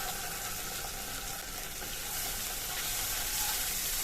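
Cumin paste and ginger paste sizzle in hot oil while being stirred with a spoon, giving a continuous close, even frying hiss with light scraping, and no voices.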